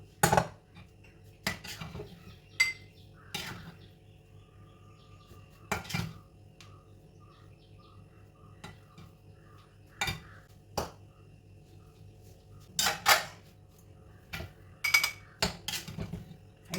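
Plates are set down and handled with cutlery while breakfast is served, sparse sharp clinks and clatters of ceramic and metal with quiet pauses between them.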